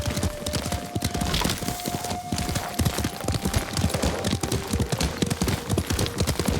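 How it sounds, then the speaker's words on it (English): Steady clip-clop of horse hooves at a trotting pace in the video game Ghost of Tsushima, close and continuous, over a soft ambient hum with a faint sustained tone. "Lord Sakai taught me to ride a horse."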